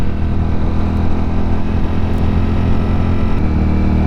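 Ducati Streetfighter V4S motorcycle engine running in sport mode, a loud, steady close-up drone with a deep rumble and no break in the sound.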